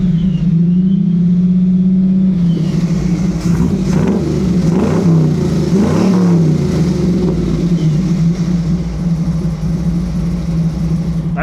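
A BluePrint Engines 350 crate V8 in a 1937 Buick street rod fires instantly on a hot start, then revs up and settles into a loud, steady, rumbling idle right up close, with no voices.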